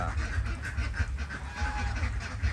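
Ducks in a backyard duck farm beside a house in the rainy season, a flock honking and quacking continuously and fairly loudly at close range, with overlapping calls and no voices.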